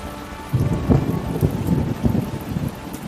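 Heavy night rain in a cartoon storm scene falls steadily while low thunder rolls and rumbles in repeated surges.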